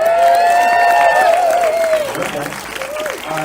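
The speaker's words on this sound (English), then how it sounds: "Give another round of applause for Ride." An audience applauds a film screening at the Los Angeles Film Festival. The clapping is steady and sustained, with a voice talking over it.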